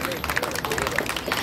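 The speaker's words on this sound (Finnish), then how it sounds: "Saa taputtaa." Audience applause at a youth panel event in Finland, a brief burst of dense clapping from a room of people, steady and moderately loud with some crowd murmur mixed in.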